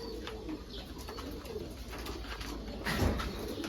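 A pair of young Elvan pigeons coo softly and steadily, close by, over a constant background hum, with a brief flutter or rustle near the end.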